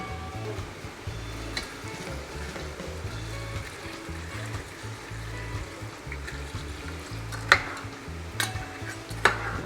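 Curry crab cooks down in a pot in a Tobago kitchen, crackling and sizzling in a thick, nearly dried-out sauce, with repeated low scraping of a spoon stirring and a few sharp clicks against the pot.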